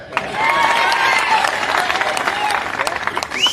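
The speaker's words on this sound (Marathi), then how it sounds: "अशोक भयांची विनंती आहे वाजवा टाळ्या" A crowd clapping at a Congress election campaign rally in Ambulga, Nilanga, a dense burst of applause swelling and then thinning, mixed with a few voices and a whistle-like sweep near the end.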